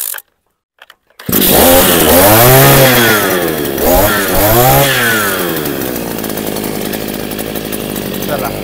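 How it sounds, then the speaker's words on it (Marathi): A petrol-engine farm machine started by a recoil pull. After a brief silence it fires up and roars loudly nearby, revving up and down in surges before settling into a steady, rough idle. "चला फायनली आपली मशीन आता इकडे स्टार्ट झालेली असा."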